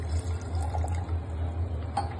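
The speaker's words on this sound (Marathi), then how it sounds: "त्याच्यात आता आपण पाणी ऍड करणार आहोत" Water is poured into a pressure cooker holding sweet potato on a lit gas stove, a soft continuous splashing fill over a low, steady hum.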